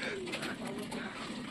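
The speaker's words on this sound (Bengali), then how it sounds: "পায়রা ছড়া থাকলে বোঝা যায় না কতগুলো" Domestic pigeons kept in a backyard loft coo softly in a brief, low, rolling murmur, fairly quiet and close by.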